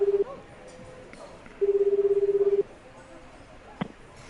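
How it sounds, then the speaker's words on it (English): A telephone rings in the video game 428: Shibuya Scramble: a brief pulsing ring tone, then a longer burst of about a second, fairly clear against a quiet background. "The phone rang several times before someone picked up."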